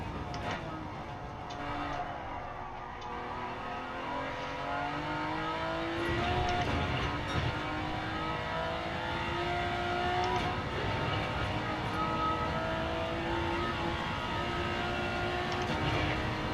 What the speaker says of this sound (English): The car is still fast on the straight line though